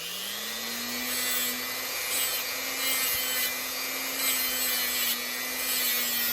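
A motorized buffing wheel polishes small nicks out of a handmade jewelry piece, giving a steady, close whine with a faint rising pitch and soft rubbing texture, with no talk.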